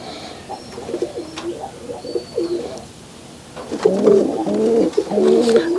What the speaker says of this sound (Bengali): জোড়া কবুতর